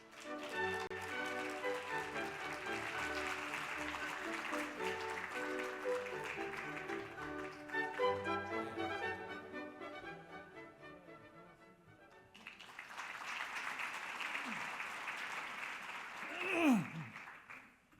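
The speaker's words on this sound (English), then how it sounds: "Please welcome Dr. Chung with a big round of applause." Audience applause welcoming an honorary chairman at a policy forum, a fairly quiet wash of clapping that follows a stretch of music and swells near the end.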